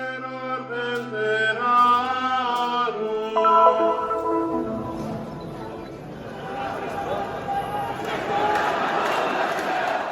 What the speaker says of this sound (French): La foule s'est rassemblée autour de la basilique du Saint-Sépulcre.